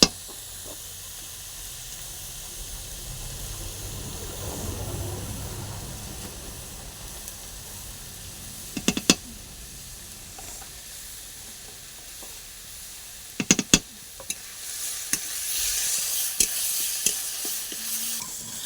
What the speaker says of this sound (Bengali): কড়াই রসুন বাটা, পেঁয়াজ বাটা, লবণ, হলুদ দিয়ে নেড়ে নেব